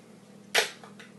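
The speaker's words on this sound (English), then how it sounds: "going to crack 4 eggs into this bowl here" One crisp egg crack against a bowl rim in a school kitchen, close and short, with a faint softer tap shortly after in a quiet room.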